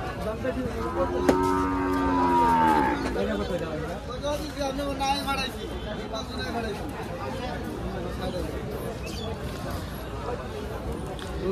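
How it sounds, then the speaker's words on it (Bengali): Bulls and calves at Tepakhola cattle market, a crowded livestock fair, let out a loud, drawn-out moo early on while people talk and a hubbub of voices fills the background. "দেখেন কি পরিমাণে গরু উঠছে টেপাখোলা গরুর হাটে"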